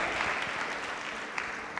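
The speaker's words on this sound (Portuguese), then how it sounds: "pode aplaudir o Senhor" Church congregation applauding, a soft, steady patter of many hands clapping at a distance, without pause for the whole short moment.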